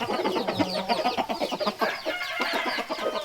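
Young chickens and chicks on a Thai farm cluck and chirp in quick overlapping bursts, close and fairly loud, with a busy flock chatter and no talk.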